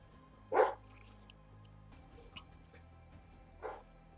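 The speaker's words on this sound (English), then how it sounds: "Damn dog won't shut the fuck up." A dog barks in the background, two distinct barks about three seconds apart, moderately loud over a quiet room hum, with no talking.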